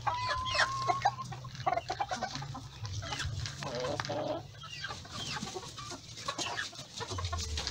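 Ornamental hens cluck in a backyard flock, several birds calling near and far in irregular bursts over a low background hum.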